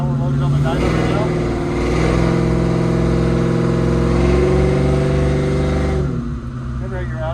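A car engine runs under load on a dynamometer, a loud steady low drone with strong harmonics that holds for about six seconds, then eases off near the end.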